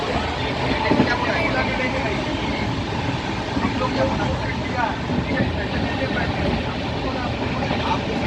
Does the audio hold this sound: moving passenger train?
yes